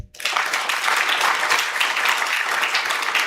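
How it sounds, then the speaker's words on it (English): Dense, sustained audience applause fills a leadership summit hall for MSME business leaders, a steady wash of many hands clapping close and loud from start to finish with no one speaking. "can we have a big round of applause again?"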